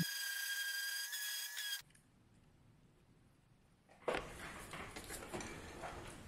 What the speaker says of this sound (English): for all the parts that I've repurposed and that were painted, I'm just going to use my random orbit sander and sand off the paint